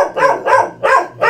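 A young Donggyeongi, the Korean native tailless dog, barks four times in a steady rhythm, close and loud, with no talking.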